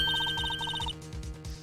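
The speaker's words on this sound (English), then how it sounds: "That's my phone." A mobile phone rings loud and close with a bright, rapidly repeating electronic ringtone in quick bursts, then cuts off and leaves a low, lumpy background.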